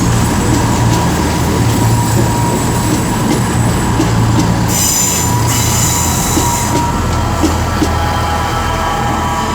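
A Class 158 passenger train departs Wolverhampton station, its loud rumbling wheels and engine filling the clip throughout, with squealing wheels and a bright high screech partway through.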